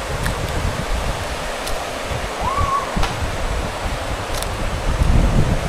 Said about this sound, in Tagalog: kung mapapansin nyo, napakalakas ng agos.